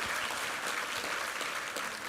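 A church congregation at a Korean Sunday worship service breaks into steady, dense applause that fills the hall evenly throughout, with no talk over it.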